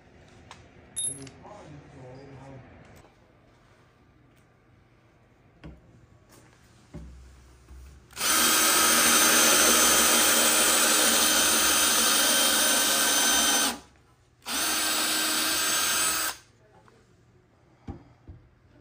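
A power drill drives 3-inch screws into a wooden raised garden bed in two strong bursts, the first about six seconds and the second about two, loud and close, after people talk quietly beforehand.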